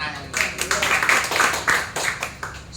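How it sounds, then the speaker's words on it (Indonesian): Church congregation at a Sunday service claps in unison, a loud, steady run of about a dozen rhythmic claps with a few voices mixed in. "Beri tepuk tangan"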